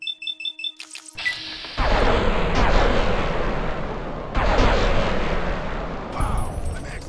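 Energy weapon gunfire in Fallout: New Vegas during a Cazador fight, starting with a few quick pulsing shots and then giving way to long, loud, roaring sustained blasts with a brief break midway.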